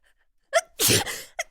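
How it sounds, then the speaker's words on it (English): A woman's sneeze with a vocal buildup: a short hitching breath, then a loud, explosive burst close up, followed by a quick breathy sound at the end. "I'm gonna sneeze."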